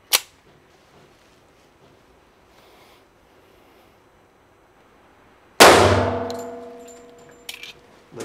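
A Springfield Armory TRP 1911 pistol firing a TAC XPD round into ballistic gel, one faint pop at the start, then a single loud sharp shot with a ringing, decaying echo, followed by a small metallic clink.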